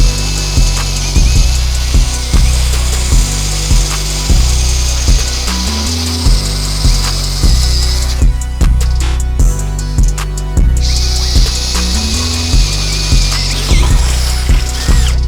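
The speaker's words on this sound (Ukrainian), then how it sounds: "Роблю крапельку мастила і починаю сверлити." Dnipro-M CD-12BC cordless brushless drill boring a 10 mm bit through oiled metal: loud, steady motor whine with a rhythmic pulsing grind, briefly easing midway before biting again.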